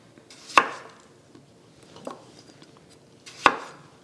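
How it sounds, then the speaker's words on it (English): A knife chops potatoes on a board: three sharp, distinct cuts spaced a second or more apart, close and crisp against a quiet kitchen. "pat drying them, and then cutting them"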